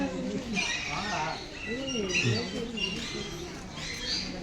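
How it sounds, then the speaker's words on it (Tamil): A lutino cockatiel calls from an aviary at Vandalur zoo in Chennai, giving repeated chirps and whistles mixed with nearby people talking. "lutino cocktail,"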